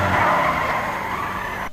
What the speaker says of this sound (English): Tyre squeals are good and thick.